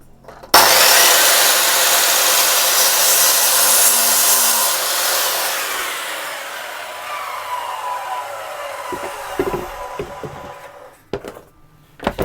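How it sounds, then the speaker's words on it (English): A miter saw chops through reclaimed pallet wood: a loud, steady whirring cut that sustains for several seconds, then fades as the blade spins down, followed by a few brief knocks. "that gives us the length, which I can then chop on miter saw"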